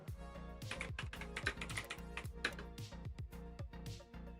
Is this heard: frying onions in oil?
no